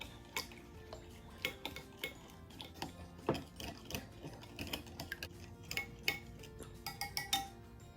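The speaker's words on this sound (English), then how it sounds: "We're going to give it a quick whisk until everything is well combined." Whisking maple cream into the wet ingredients of a maple and brown sugar pancake batter in a bowl, giving a quiet, uneven series of clicking metal taps against the bowl over several seconds, with no voices.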